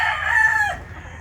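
An imported rooster gives a single brief, clear crow that fades at the end, heard alone over a quiet low background.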